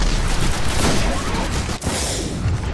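Dense, continuous gunfire from the video game Destiny, a steady roar of overlapping shots with no clear gaps, loud and close throughout.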